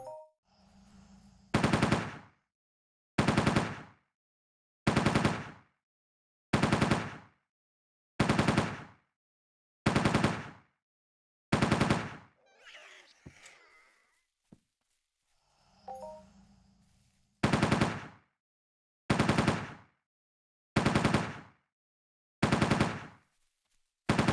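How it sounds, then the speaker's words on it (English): Repeated gunfire from hunting in the Entropia Universe video game on Cyrene: about a dozen loud, evenly spaced bursts, each sharp and ringing, with a short quieter gap midway holding softer scattered noise. "160 shots left. So I'll just keep on shooting these unless I die again."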